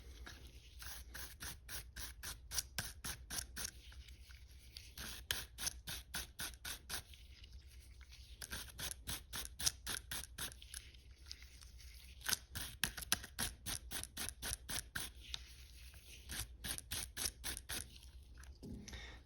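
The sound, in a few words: brush scrubbing LCR22 revolver during cleaning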